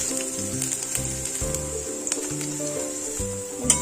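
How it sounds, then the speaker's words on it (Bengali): Leaf paste hits hot oil with garlic and sizzles steadily throughout, a continuous frying hiss with background music playing underneath. "এবার আমি পাতা বাটাটা দিয়ে দিচ্ছি।"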